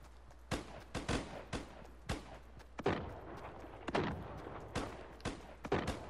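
Rifle shots crack in a Fortnite match, roughly a dozen sharp reports at irregular intervals with echoing tails, some close and loud, others more distant.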